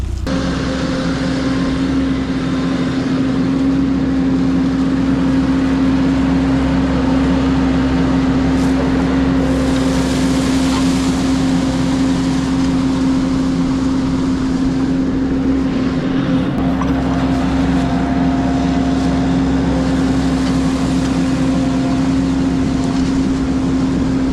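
A mini skid steer's small engine drones steadily and loudly throughout as a landscape rake gathers leaves, with a constant low hum and occasional scraping and rustling on top.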